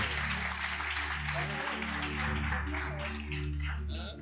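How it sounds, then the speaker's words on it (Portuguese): A church congregation applauds steadily during a service, many hands clapping in a dense patter, with people talking and calling out over the applause. "Aplauda bem forte, Jesus."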